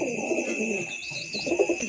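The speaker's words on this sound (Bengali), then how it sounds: "খোঁপে কী কী পায়রা আছে" Pigeons coo softly from their roosting boxes at night, a low repeated burbling with a steady high hiss running underneath.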